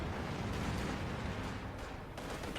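Tank battle in Company of Heroes 2, with a KV-8 tank among the units: a dense, continuous rumble of gunfire and explosions that stays muffled and fairly faint throughout.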